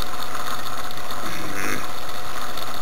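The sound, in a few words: Bedini turbo stage 2 motor circuit running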